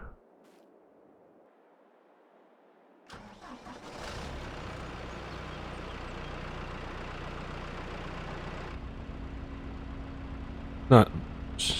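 A tractor engine heard from inside the cab: near silence, then the engine rises at about three seconds into a loud, steady mechanical drone that carries to the end, with a brief sharp high tone near the close.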